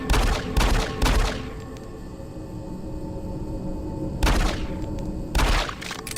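Rapid-fire gunshots from a gun in the video game Doom 3 fired into dead bodies, coming in loud bursts: a few quick volleys at first, then a quiet pause and two more bursts near the end.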